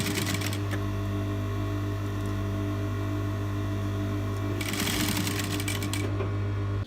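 A sewing machine stitches a pleat into a puff sleeve, giving a steady, close mechanical whir with a low hum throughout and a brief rattling surge near the end before it stops.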